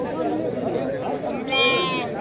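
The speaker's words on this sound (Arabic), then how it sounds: "خروف صغير تبارك الله راه مليوح" At a busy sheep market, a young lamb lets out a short, wavering bleat near the end, rising above the crowd's chatter and people talking close by.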